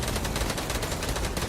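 Rapid automatic gunfire from Fortnite, a dense, loud stream of shots repeating without pause throughout, heard alone with no talking.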